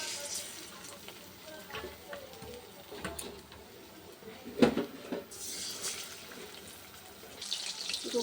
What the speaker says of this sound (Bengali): আর বাদ বাকিগুলো ভেজে নিই।